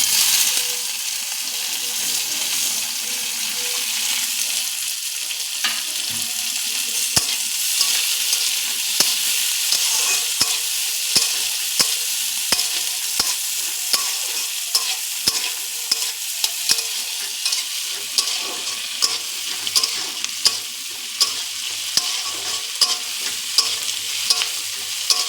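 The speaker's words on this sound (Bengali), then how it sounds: "এর সাথে টমেটোটাও একটু তেলে ভেজে নিচ্ছি" Tomatoes fry in hot oil for paneer butter masala, a continuous close sizzle with regular scraping taps of a spatula stirring the pan, no talking.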